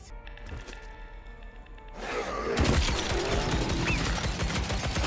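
Machine gun fire in Zombieland: Headshot Fever VR breaks into a continuous rattling burst halfway through after a quieter opening of scattered clicks and tones, staying loud and steady to the end.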